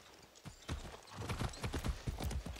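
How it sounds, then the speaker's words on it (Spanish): Steady, rhythmic horse hoofbeats clip-clop at a brisk pace in the video game Far Cry 6, close and fairly loud, with no talking. "Un caballo, joder, venga."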